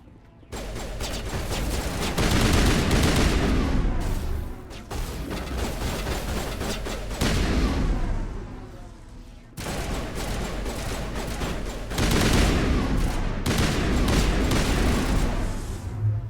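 Sustained video game gunfire from Mass Effect 1 Legendary Edition roars in long, loud bursts separated by brief pauses, dense and close throughout with no clear speech.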